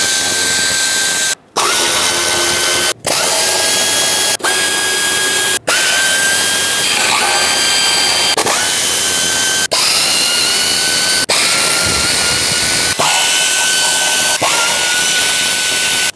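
A cordless power tool runs in repeated high-pitched whirring bursts, separated by short pauses, while it backs out the valve cover bolts on a 2008–2010 Ford F-250 with the 5.4L engine. Each burst is loud and close, with no talk.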